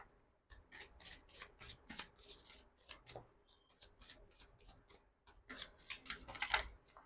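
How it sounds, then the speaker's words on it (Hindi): Tarot cards shuffled by hand in a rapid run of crisp, riffling flicks and soft slaps. The flurries come in close bursts separated by short pauses, building to a busier stretch near the end. "So this will be the last shuffle."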